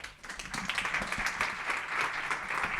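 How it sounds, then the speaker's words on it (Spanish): Brief applause from the audience at a seminar on type 1 diabetes, a crowd clapping steadily at a moderate distance for a few seconds. "Un aplauso, por favor."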